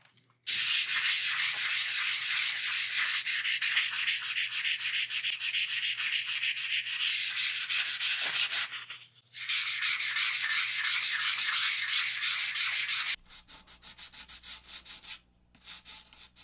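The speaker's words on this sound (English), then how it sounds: "Prior to priming now, we have to sand it with about 320 grit sandpaper." Cured automotive body filler is hand sanded with about 320 grit sandpaper, a steady loud rasping scrub running in long continuous strokes with a brief pause midway, then lighter, quieter rubbing near the end.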